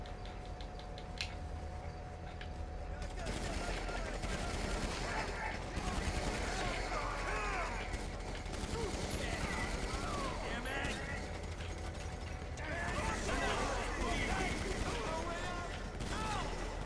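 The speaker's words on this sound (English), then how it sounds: "Okay, machine gun it is then instead." Machine gun fire in the GTA Online game crackles as dense, continuous rapid shots at a low level, mixed with game effects, while a player talks over much of it.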